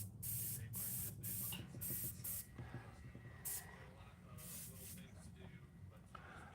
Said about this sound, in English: this ink that I'm spraying on here now